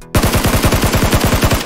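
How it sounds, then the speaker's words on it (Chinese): Automatic gunfire in a shooting video game, a loud, rapid burst of evenly spaced shots starting abruptly and continuing to the end of the short clip. "听前面还有枪声"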